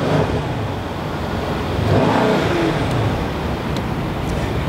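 2017 Mercedes-AMG C63 station wagon's 4-litre direct-injection twin-turbo V8 revved with the throttle blipped, a loud, close, continuous roar that swells in the middle and settles back.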